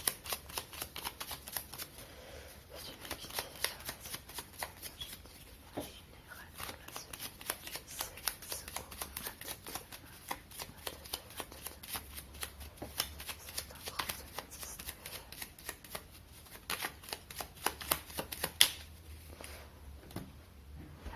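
Tarot cards are shuffled continuously at close range in soft, rapid riffling flutters, with faint breaths of sound between bursts.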